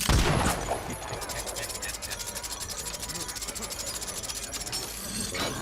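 The Deathslinger's speargun in Dead by Daylight reloads with a rhythmic ratcheting crank after a sharp opening shot. Steady mechanical clicks repeat under game ambience.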